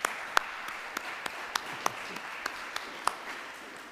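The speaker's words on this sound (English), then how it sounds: "Let's give them a round of applause." An audience at an educational presentation on teaching the Holocaust through literature gives steady, moderate applause, a continuous wash of clapping with a few sharp, close individual claps standing out.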